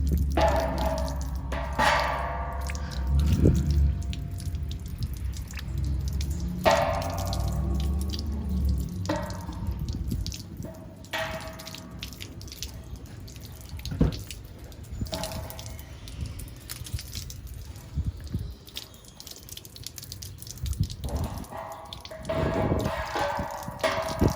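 Water splashes and drips while ten years of dirt is washed off a DirecTV satellite dish, with uneven gushing bursts, trickling and scattered drips close by.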